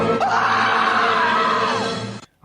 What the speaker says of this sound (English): Leave your message at the sound of the shriek.